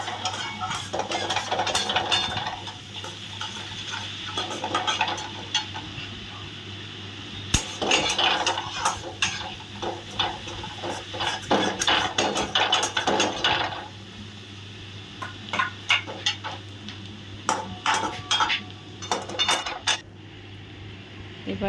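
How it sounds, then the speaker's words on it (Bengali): Mutton and garlic being stirred and fried in a pan for kosha, with repeated scraping and clinking of a utensil against the pan over a quiet sizzle, in irregular bursts that pause and resume. "একটু একটু করে কষাচ্ছে আর দিচ্ছে"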